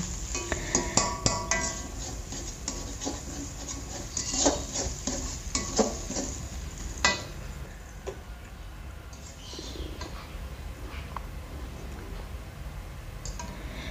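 Spices with bay leaves and galangal stir-fried in a pan, with scraping utensil clicks and taps over a steady sizzle; busier clatter early, then a calmer hiss for the rest.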